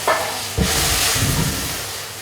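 Raw chicken dropped into a hot pan of spiced oil for a curry, bursting into a loud hiss and steady sizzle that rises sharply at the start, then settles into an even, close crackling fry.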